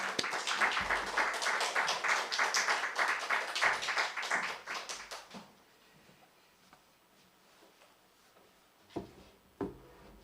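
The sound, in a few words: congregation clapping to welcome a preacher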